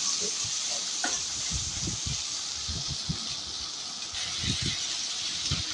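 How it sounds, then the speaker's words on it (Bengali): Boiled, drained noodles tipped into a hot pan, giving a steady steam hiss with soft rustling and light scraping thuds, fairly close and with no talk. "এবার আমি এটাতে সেদ্ধ করা পানি ঝরানো নুডলসটা ঢেলে দিচ্ছি।"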